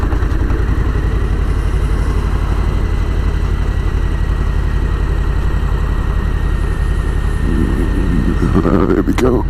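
A Harley-Davidson FLSL 1740 Slim motorcycle rides with a steady, loud low engine rumble throughout, picking up a brief rise in tone near the end.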